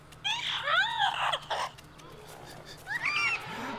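A rogue creature in the video game Spore lets out warbling, squealing calls in short bursts, two cries near the start and another a couple of seconds later, heard over a low game hum.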